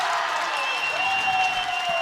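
An indoor crowd at Seaholm Pool applauds a dive at a high school boys' swim and dive meet, steady clapping from many hands filling the brief moment, with a voice talking faintly underneath.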